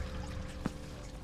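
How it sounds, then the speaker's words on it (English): Rushing water in Battle Chasers: Nightwar, a faint steady pouring wash released from a gargoyle-head mechanism, continuous and quiet with one brief splash-like blip midway. "Hear the sound of rushing water."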